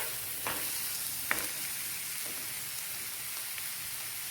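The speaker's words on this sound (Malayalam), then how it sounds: "നമുക്കിതൊന്ന് വഴറ്റിയെടുക്കാം." Ground chili and onion paste sautés in a pan for egg masala curry, a soft, even sizzle with a few scraping stirs and one clear clack of a spoon, and no talking.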